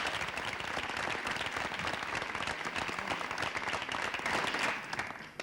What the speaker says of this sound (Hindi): तालियां बजाइए आपके लिए।